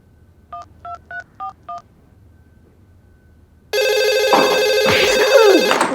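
Five short touch-tone dialing beeps sound in steady rhythm, then after a quiet pause a loud, bright telephone ring bursts in and continues to the end.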